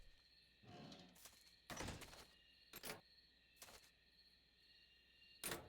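A metal door being locked in Metal Gear Solid 3: Snake Eater, heard as a series of separate heavy thunks and clanks spaced about a second apart, faint under a steady background hum, with no talk.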